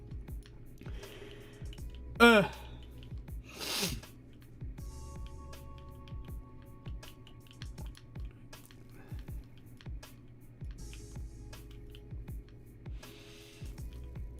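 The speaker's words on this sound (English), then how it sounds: "That sneeze shook the hell out of the camera." A person at a computer sneezes sharply once close to the microphone, with a second, softer burst moments later, over light clicking and faint room noise.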